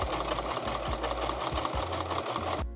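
A sewing machine stitching the hem of a dress, a fast steady mechanical whir and rattle, loud and close, running continuously before stopping abruptly at the end.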